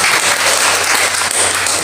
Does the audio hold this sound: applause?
yes